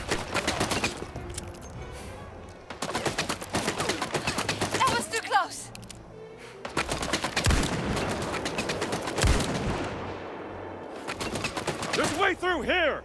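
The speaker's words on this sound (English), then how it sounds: "Not sure who else is shooting." Bursts of gunfire in Indiana Jones and the Great Circle, rapid volleys and single shots rattling through most of the stretch with short gaps, loud and close, with a voice speaking over parts of it.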